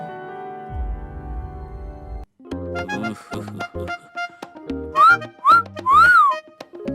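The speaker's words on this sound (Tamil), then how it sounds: "ஒரு லேடி கான்ஸ்டபிள பார்த்து விசில் அடிப்பேன்" A man whistles at a woman police constable in a Tamil comedy scene. Several short, loud, rising whistle calls come near the end, after a stretch of music-like tones.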